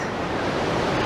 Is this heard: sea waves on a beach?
yes